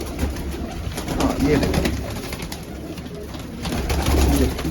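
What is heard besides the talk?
pigeons cooing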